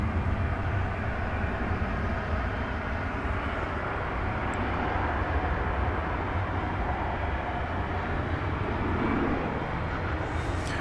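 A 31-year-old MD-11 freighter moves at DFW airport at night, a steady broadband engine roar holding at constant loudness throughout, continuous and fairly close.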